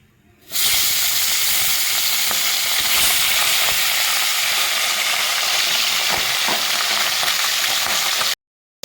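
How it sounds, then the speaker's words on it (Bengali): Tengra fish frying in hot mustard oil in a nonstick pan: a loud, dense, continuous sizzle and hiss starting abruptly and holding steady for several seconds, heard close up with no talking. "তেলটা গরম হলে আমি মাছ ছেড়ে দেবো"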